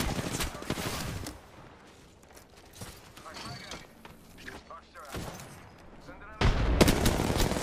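Gunfire rattles in Apex Legends during a town takeover fight, with bursts of rapid shots and impacts, loud at the start and again near the end, while a player talks excitedly over the shooting.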